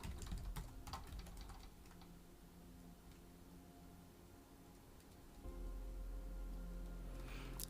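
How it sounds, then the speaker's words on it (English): Steady, quiet clatter of keys on an ergonomic computer keyboard, fast irregular taps running throughout at close range over a low background hum, with no talk. "I'm using an ergonomic keyboard."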